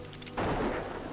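A dwarf hunter fires at its own pet in Classic WoW: a sudden loud, broadband shot bursts in after a quiet moment and rings on as a sustained rumbling blast.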